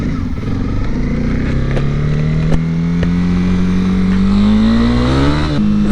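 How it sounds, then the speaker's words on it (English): A Honda CB300R BS6 motorcycle engine hums steadily and loudly while riding, its pitch rising gradually as it accelerates, with constant wind and road noise. "riding the CB300R BS6 version."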